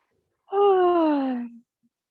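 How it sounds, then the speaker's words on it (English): A single voiced yawn during a stretch, a drawn-out descending moan lasting about a second, close and clear against silence. "Get some yawns out."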